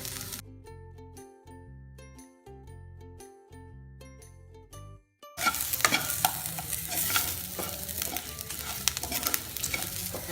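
Goat intestine boti fry sizzling and being stirred in a pan, Nagercoil hotel style: a short jingling passage gives way to loud, steady frying hiss with scraping stirs close by.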